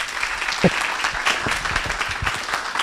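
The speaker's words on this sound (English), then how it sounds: "Let's receive Patrick with a round of applause" Audience applause welcoming Patrick Awuah onto a campus dialogue stage, a dense, steady wash of clapping from a sizeable crowd at moderate level with a few sharper claps standing out.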